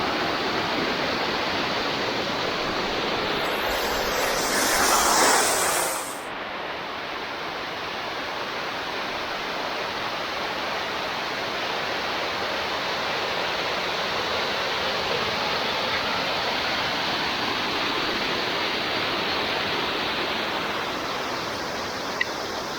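A waterfall in Lydford Gorge, West Devon, roars steadily and loudly at close range, a dense, unbroken rush of falling water with no other sounds.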